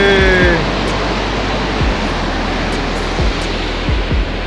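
Water runs out of Begnas Lake in high volume, a loud, dense, continuous rush close to the microphone, with no talk over it.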